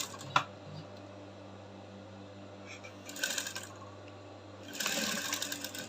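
A sewing machine back stitches a loop on a shift gown in two short, brisk bursts of fast stitching over a low steady motor hum, with a sharp click near the start.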